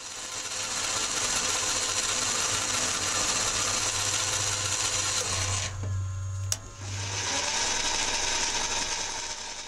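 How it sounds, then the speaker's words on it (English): Lathe centre-drilling on a steel suspension clamp for a Gordon Microcar: a steady whirring machine drone with gear-like ticking runs throughout, dipping briefly at the midpoint before resuming, close and moderately loud with no talk. "I'm just pecking with a centre drill before cutting the full countersunk centre."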